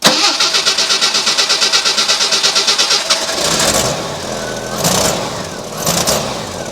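A 1987 Jeep YJ engine cranks with a fast, even starter chug for about three seconds, then catches and runs roughly with uneven revving close by.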